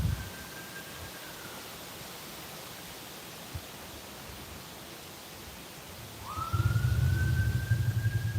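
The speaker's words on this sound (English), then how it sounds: "I hear sirens" Distant sirens wail faintly over a steady noisy background, one rising tone fading early and another swelling near the end.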